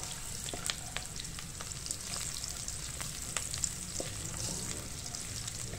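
Ginger and whole red chillies, with green chillies, fry in hot oil while poha is being made, giving a steady, close sizzle and crackle with soft stirring clicks and no voices.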